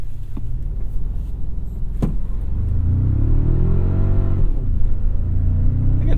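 A 2024 Toyota Tacoma TRD Pro with its small four-cylinder engine accelerates hard on a dry lake bed, a steady low engine roar building as revs climb, with a brief tire scrabble before pulling away.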